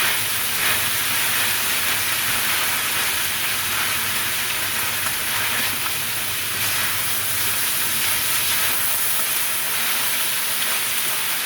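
Green beans with ginger and crushed red pepper cook in a pan, giving a steady, loud broadband sizzle and hiss that runs unbroken from start to finish with no talking.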